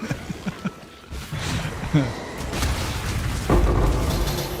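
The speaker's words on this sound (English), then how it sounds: "explosion!" Explosion in the action game Path of Exile, with a few small pops giving way to a low booming blast and a sustained rumbling roar that carries on to the end.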